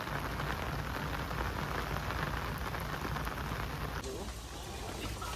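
Heavy rain pours steadily, a dense, unbroken hiss of drops drumming on surfaces that stays loud and even throughout.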